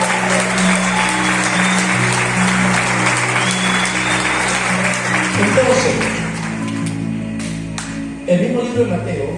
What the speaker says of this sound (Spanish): Denle un fuerte aplauso a Cristo.